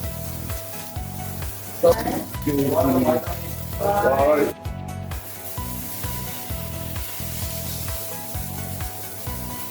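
Beef burger patty searing in a smoking-hot cast iron skillet, a steady bright sizzle and crackle that runs throughout, with a voice talking over the first half and rhythmic low thumps underneath.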